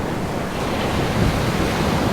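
Ocean surf rolls in at Kahana Bay on Oahu's shore on a calm, nearly windless afternoon, a steady close wash of breaking waves without pause.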